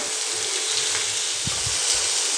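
Capsicum frying in a pan for Maggi noodles, a constant close sizzle with a few low thumps of stirring near the end.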